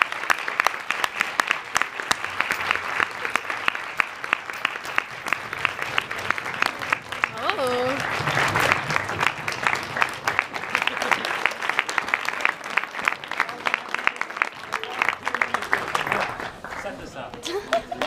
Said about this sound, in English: Can we have another round of applause for all the speakers?